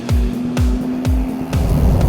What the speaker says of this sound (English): a flat 6 3-liter turbo just chasing you around everywhere